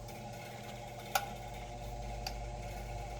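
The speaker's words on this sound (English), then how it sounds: "I don't know what that ticking noise is." A 1960s Knapp & Monarch 10-inch table fan hums steadily while running. Two sharp, faint ticks sound about a second apart over the hum, with no talking.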